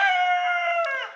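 A single White and True Blue rooster crowing once, close and loud, a sustained call lasting about a second that trails off at the end.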